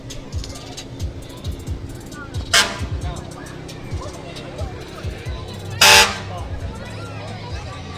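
A large Service Transport, Inc. truck blasts its horn twice in a Christmas parade in Greer, two loud long honks standing out above crowd noise and talking.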